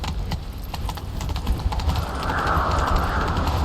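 Rapid hoofbeats of a horse in The Witcher 3: Wild Hunt clatter in a quick galloping rhythm, fairly close, joined by a rising rushing noise toward the end.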